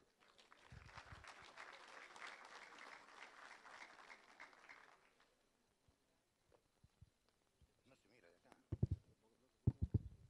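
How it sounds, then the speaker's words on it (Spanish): Audience applause welcoming the president of a superior court at the opening of an international legal congress in Tacna, a sustained round of clapping for about five seconds that fades out, followed by scattered handling noises and a few thumps. "Lo recibimos entonces con fuertes y calurosos aplausos."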